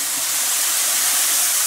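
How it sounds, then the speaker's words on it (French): Brussels sprouts toasting in a dry frying pan with no oil give off a loud, close, steady hiss that fills the whole moment without a break. "Je vais ajouter ici mes choux de Bruxelles pour les faire griller."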